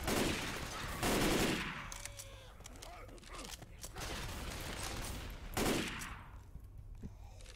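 An M16 rifle fires in Left 4 Dead 2 in loud rapid bursts, first heavy and then thinning out, with a final burst near the end and a voice talking over parts of it.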